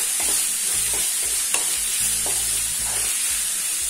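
Sliced onions sauté in oil over a medium flame for a restaurant-style paneer masala, giving a steady close sizzle. Several soft scraping stirs cut through it, with no talking.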